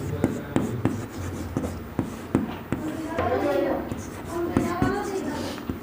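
Chalk or marker writing on a board during a Hindi-medium class 10 trigonometry lecture, a steady run of sharp taps and scratchy strokes close by, with a voice talking over it.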